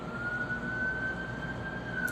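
An emergency vehicle siren outdoors, a steady wailing tone that slowly rises and holds, moderately loud and a bit distant over low background noise, with no talking.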